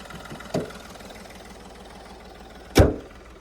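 A 2013 diesel car engine idles with a steady low rumble, broken by two sharp knocks or thumps.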